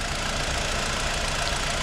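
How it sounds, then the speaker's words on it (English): A BMW 118i hatchback's four-cylinder engine runs at a steady idle, a continuous broadband hum and rumble heard alone and fairly loud. "it's not the characteristic 6-spot BMW engine, but still it's a good engine"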